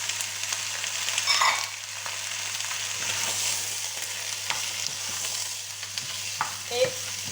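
Carrots tipped into a hot pan for a turkey blanquette and stirred, a continuous crackling sizzle with a few spoon scrapes and taps against the pan.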